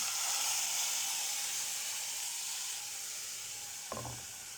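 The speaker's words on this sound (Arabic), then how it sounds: "حمرنا الشعرية في شوية زيت من اللي احنا مستخدمينه في البصل" Vermicelli frying in oil left from browning onions for Egyptian koshari, a steady bright hiss of oil that slowly fades, with a brief utensil knock near the end.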